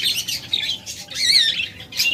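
Loud, harsh squawks and shrill calls come in repeated bursts from lovebird or cockatiel breeding pairs nearby, with a brief rustle between cries.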